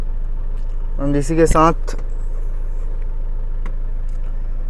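A used Mahindra Scorpio's engine runs at a steady low idle hum, with someone speaking briefly over it midway.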